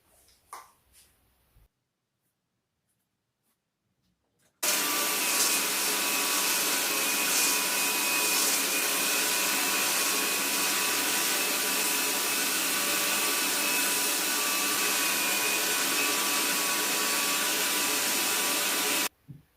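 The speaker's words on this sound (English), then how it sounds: "I'll hit it with a belt sander first just to get it right back" A belt sander works over an epoxy resin sign, a loud, steady abrasive roar that starts abruptly after a quiet stretch and runs unbroken for about fourteen seconds before cutting off.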